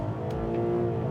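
A Volkswagen Golf MK5 R32 engine held at a steady, loud rev, a dense continuous drone close up with no voices over it.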